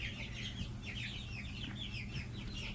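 Baby Coturnix quail chicks peep in a rapid chorus of thin, high chirps, a constant faint chatter over low background rumble.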